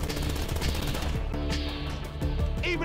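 Rapid bursts of gunfire in GTA 5, loud and continuous, with automatic weapon fire layered over booming explosions and dense action noise.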